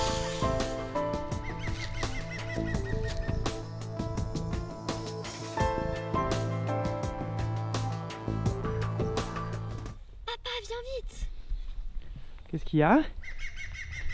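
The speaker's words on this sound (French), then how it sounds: "Il y a un pic vert. Ah oui, on l'entend là." A green woodpecker's laughing call sounds in woodland, a brief rising-and-falling series of notes heard after a stretch of loud music, with a person speaking briefly nearby.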